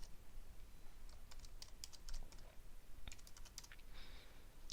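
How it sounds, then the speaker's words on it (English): Quick, light keystrokes on a computer keyboard as an email address is typed, a short irregular run of clicks, faint and close with no talking. "I'm just going to type in this address."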